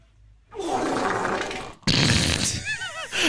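A voice imitates a fart with a loud, sputtering, drawn-out raspberry, then a second burst follows with some squeaky, wobbling tones near the end, up close in a casual banter setting.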